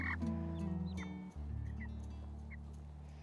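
Meat chickens, Cornish Cross and Buff Orpington, cluck softly while a steady low hum runs underneath, with scattered short calls through the span and no talk.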